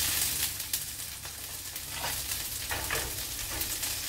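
Beef and peppers fry in hot grease on a home stove, a dense, close, continuous sizzle with a few brief spattering pops. No voices are heard.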